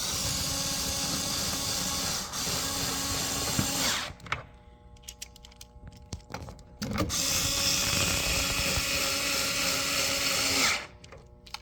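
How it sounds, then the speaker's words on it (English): A power drill whirs steadily for several seconds while LED tail lights are installed on a 2014 Chevrolet Cruze, pauses amid small clicks and clatter, then runs again before stopping. "then we use a drill"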